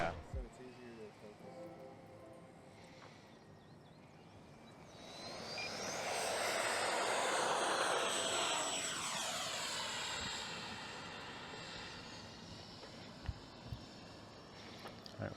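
An FMS 64mm EDF F-16 Fighting Falcon model jet sweeps past, its ducted-fan whine swelling loud overhead then sliding down in pitch as it recedes, with outdoor background and a few scattered sounds afterward.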